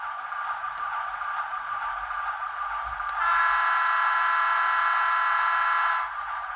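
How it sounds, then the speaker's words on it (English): Horn of DCC-controlled model locomotive number 3, a steady electronic tone sounding continuously, growing louder and fuller about halfway through, then cutting off near the end, with no talking. "At the moment the horns sound like this"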